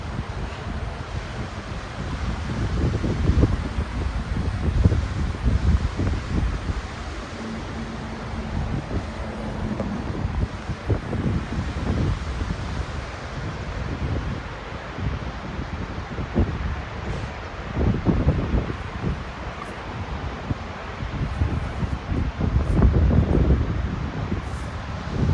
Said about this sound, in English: It's really windy this morning